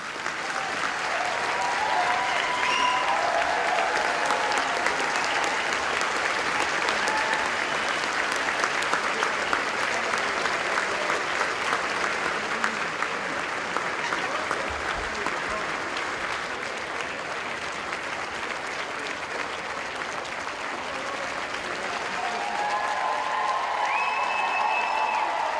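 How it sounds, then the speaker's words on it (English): A crowd greets Vice President Joe Biden with sustained, loud applause at an event with Florida teachers, clapping steadily for the whole stretch without pause. "Applause for the Vice President of the United States of America."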